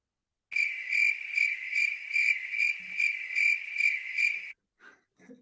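A cricket chirping sound effect played over an online call: a steady, high, rapidly pulsing trill of about ten even chirp groups over four seconds, clear and alone, followed by a few soft stray noises.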